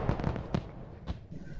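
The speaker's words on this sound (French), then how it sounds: "Ah! Une explosion!" Explosion sound effects in a battle scene: several sharp, booming bursts spaced irregularly over a dense rumbling background.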